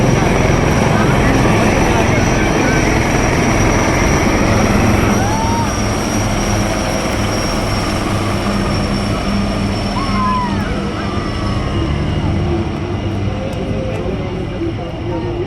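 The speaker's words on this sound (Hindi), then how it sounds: "बेहद खूबसूरत फ्लाई पास्ट को अंजाम दिया भारतीय सेना के और एयरफोर्स के संयुक्त हेलीकॉप्टर्स ने" Joint Indian Army and Air Force helicopters make a flypast at an Army Day parade, a loud, continuous engine and rotor drone that stays steady across the whole stretch with a faint whistle above it.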